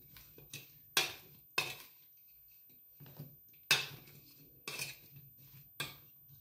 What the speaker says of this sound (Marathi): आता हे पूर्ण मिक्स करून घ्यायचे आपल्याला।